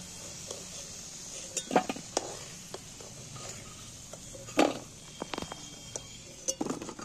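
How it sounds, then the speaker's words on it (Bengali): Fried potatoes lifted from hot oil in a home kitchen while cooking a soybean and egg curry: a spoon clinks against a metal pan in a few sharp bursts over a soft, steady background hiss. "এবার আমি তেল থেকে তুলে নিচ্ছি আলুগুলো।"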